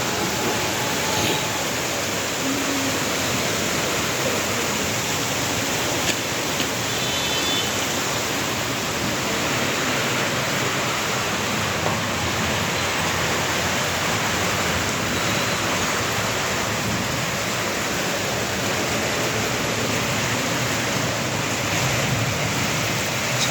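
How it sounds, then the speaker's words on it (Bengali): Heavy, nonstop torrential rain pours down, a dense steady roar of broadband wash lasting throughout with no pauses, no voices and no distinct thunder. "প্রচুর বৃষ্টি, একদম টানা বর্ষণ, থামতেছেই না"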